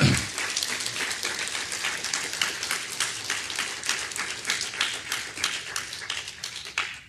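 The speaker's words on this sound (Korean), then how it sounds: "여러분들 우리 김은구 대표에게 큰 격려와 축하의 박수를 좀 보내주십시오" An audience at a patriotic lecture night in Atlanta gives a round of applause, with dense, crisp hand claps close by, rapid and steady after a loud onset and then gradually thinning out.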